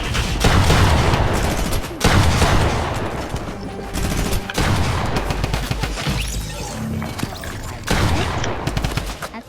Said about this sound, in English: today we're going to be doing a minigun